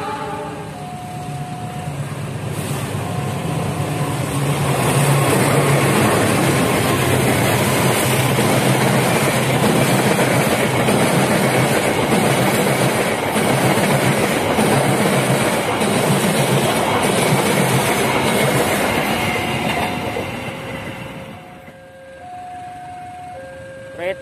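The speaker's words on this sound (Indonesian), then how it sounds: "sebentar lagi kereta api Argo Wilis akan berjalan langsung" The Argo Wilis passenger train in Indonesia rumbles steadily past with rhythmic clattering wheels, loud and close, a horn sounding briefly near the start before the noise fades at the end.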